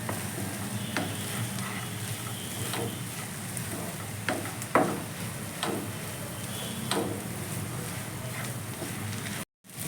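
Amaranth leaves with moong dal, spices and coconut are stirred in a hot pan, a soft continuous frying hiss broken by occasional scraping clicks of the spoon, close and fairly quiet.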